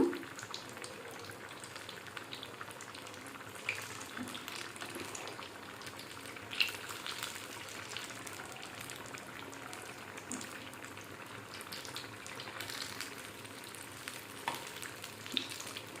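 Onion and chilli bajji frying in hot oil, a soft, steady bubbling crackle at low volume with small pops scattered across the stretch.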